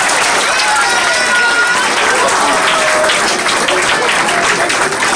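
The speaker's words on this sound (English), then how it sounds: "Give him a big round of applause, please." An audience at the LV Temple Navaratri felicitation gives a volunteer a big round of applause, a loud, close and continuous clapping with voices mixed in throughout.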